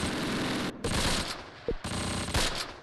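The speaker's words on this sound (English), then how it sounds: "We are drawing a lot of fire here." Sustained bursts of machine gun fire in the Close Combat wartime strategy game, loud and dense, broken by a couple of short pauses with scattered single shots between.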